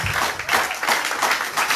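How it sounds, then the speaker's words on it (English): Church audience clapping together during a sermon, loud and continuous, with pulsing rhythmic claps from many people filling the space. "Clap for the King of Kings."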